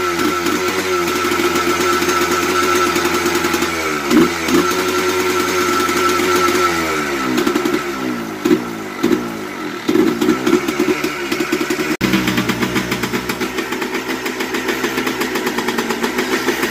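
A used Yamaha Blaster engine cranks and catches, then runs with a buzzing two-stroke note that revs and stutters unevenly, dropping back to a steadier idle near the end.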